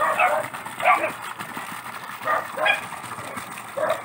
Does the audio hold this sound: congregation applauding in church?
no